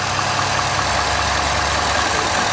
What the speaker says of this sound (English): Holy, that's a beautiful engine in there.